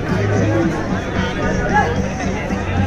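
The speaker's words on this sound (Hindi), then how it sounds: "क्राउड काफ़ी है इसलिए थोड़ा भीड़, ट्रैफिक आप देख सकते हैं काफ़ी सारी भीड़ है।" Dense crowd babble at a Hero Xtreme 160R motorcycle drag race event in Hathras, many voices chattering at once, close and continuous with no single speaker standing out.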